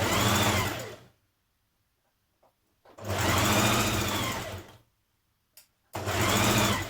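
A sewing machine stitches a seam on stretch fabric for a dress, running in three steady bursts with short pauses between them, loud and close, with no talking.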